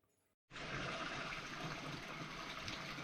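Hot water is turned on from a tap to fill a container at home. After a brief quiet moment, a steady gushing stream starts suddenly and runs on evenly and fairly loud.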